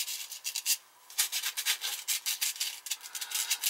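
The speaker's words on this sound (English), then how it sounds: "All I'll do is clean that with a little sandpaper." Sandpaper scrubs a gas furnace flame sensor in quick back-and-forth strokes, a close, dry, rhythmic rasping with a brief pause near the first second, otherwise steady and alone.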